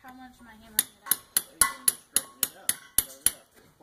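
Hammer strikes on a horseshoe nail while a shoe is pulled from a hoof, about a dozen sharp metallic taps in a steady rhythm, close and fairly loud, with a voice talking briefly at the start.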